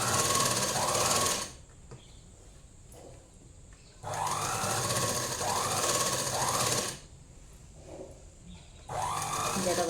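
A sewing machine top stitching along the edge of a chudidhar top runs in three bursts of rapid, steady whirring, separated by quieter pauses with soft handling noise, close and fairly loud.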